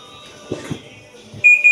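A top-load washing machine sounds its door-sensor error alarm after the door lead sensor was replaced: soft handling knocks first, then two loud, high electronic beeps near the end.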